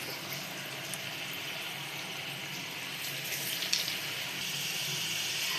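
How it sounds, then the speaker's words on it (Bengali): Steady, even sizzling of pitha cakes made from sabudana and poha frying in hot oil in a pan, a soft continuous hiss heard close with no talking. "তেল গরম হয়ে গেছে, এবার দিয়ে দেবো পিঠেগুলো।"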